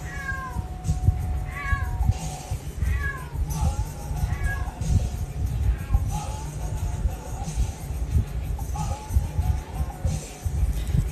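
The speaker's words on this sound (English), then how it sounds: "You guys can probably hear my cat." A male cat meows repeatedly, about six short close cries spaced a second or two apart over a rumbling background, heard during a wood burning session.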